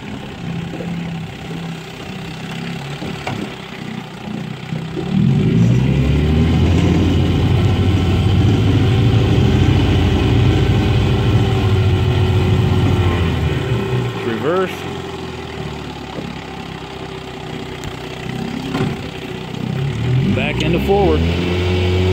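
A 1964 Evinrude Fisherman 5.5 hp outboard motor with a full roller-bearing power head hums low and steady, rising to a louder, fuller drone partway through, with a person talking at times over it.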